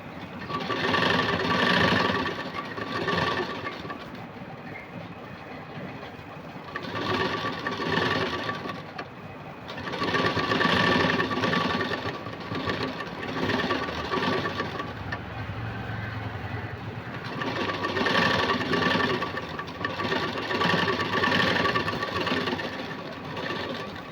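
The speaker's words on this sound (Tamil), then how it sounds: "இப்போ கரெக்டாக இழுத்து வச்சு அந்த லேஸில் வந்து தையல் போட்டுக்கலாம்" A sewing machine stitches lace onto a puff sleeve. Its motor hums and chatters rhythmically in repeated bursts several seconds long, close and steady, with short pauses between runs and no voices.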